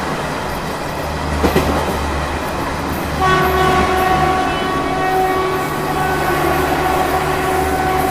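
Garib Rath Express passenger train running on the Delhi to Ranchi route, a steady rumble with wheel clatter, joined by a long sustained horn from about three seconds on, heard close and loud with no talk.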